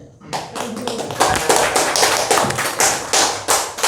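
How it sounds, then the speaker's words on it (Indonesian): Audience clapping at a village market opening ceremony in Alastengah, a dense burst of hand claps starting abruptly and holding steady at a fairly loud level for several seconds. "Tepuk tangan untuk BUMDes."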